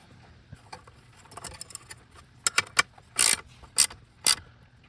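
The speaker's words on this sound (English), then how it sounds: "I'm going to go ahead and tighten the nuts that are mounting the actual tube to my pack here" Nuts being tightened on the heater tube of a spa hot tub during a heater element replacement, heard as scattered clicks and ratcheting metal taps that build to a few louder, sharper clacks near the end.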